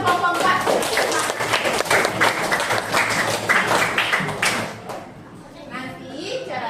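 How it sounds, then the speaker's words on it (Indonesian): Classroom applause from a group of primary schoolchildren for group 4, a dense burst of clapping lasting several seconds with voices mixed in, fading to quieter chatter near the end. "Tepuk tangan buat kelompok 4."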